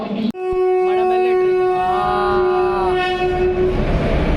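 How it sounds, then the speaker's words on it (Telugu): Passenger train 20967 rolls into a station close by, its horn blaring one long sustained tone over a low rumble of wheels and engine, with faint voices underneath. "సో మనం వెళ్ళే ట్రైన్ అయితే వచ్చేసింది"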